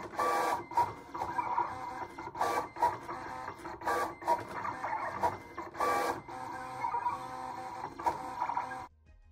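Siser Romeo cutting machine cutting heat transfer vinyl, a busy run of mechanical whirs, clicks and short motor bursts in an uneven rhythm, close and moderately loud, stopping near the end.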